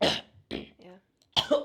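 A single sharp, explosive sneeze that comes out like a cough, close and loud, followed by brief casual speech from nearby voices.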